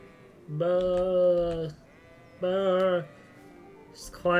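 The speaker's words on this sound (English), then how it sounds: "Just quiet sheeps." Sheep in the video game Kingdom Come: Deliverance bleat twice in drawn-out, clear calls, close and fairly loud, separated by a short quiet gap, with a third bleat beginning at the end.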